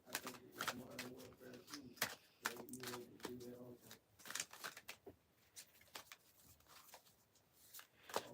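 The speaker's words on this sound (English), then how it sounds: "Shuffle the cards and see." Soft, repeated shuffling of tarot cards comes in bursts of riffles and slides, close by, with a faint murmuring voice between them.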